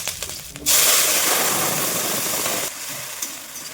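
Whole spices, dried red chillies and bay leaf hit hot oil for tempering, setting off a sudden loud hissing sizzle that holds steady for about two seconds and then drops back to a quieter crackle.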